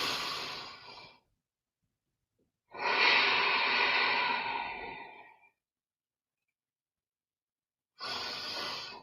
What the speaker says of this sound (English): Keep on breathing here.